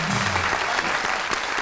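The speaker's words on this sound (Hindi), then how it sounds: "अरे तालियां" A studio audience bursts into loud, sustained applause on a Pakistani TV talk show, steady clapping from a full crowd that fills the whole moment, with a faint voice underneath.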